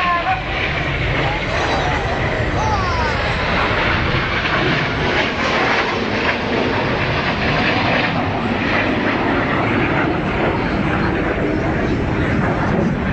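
Red Arrows jets roar past at the 2009 Sunderland air show, a loud, continuous engine rush that holds steady for over ten seconds, with a commentator's voice running over it.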